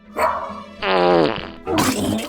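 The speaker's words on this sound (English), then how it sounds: "My breath clears the room faster than one of Scruffy's farts." Comedic fart sound effect in a podcast comedy ad, three loud blasts in quick succession, the middle one a long buzzing rasp, standing alone without talk.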